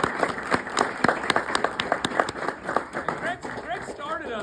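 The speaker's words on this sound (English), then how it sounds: "Let's give a big round of applause for them." A crowd at a political fundraiser speech applauds with a dense patter of clapping that gradually thins, while voices carry through underneath.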